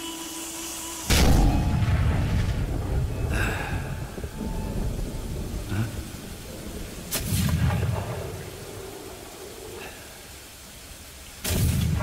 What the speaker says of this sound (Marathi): अरे आम्ही सांगतोय, तोफ वाजवा